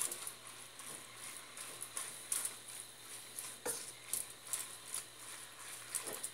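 Red, yellow and green bell pepper pieces sauté in a pan, a soft, steady sizzle broken by light stirring taps and scrapes of a utensil.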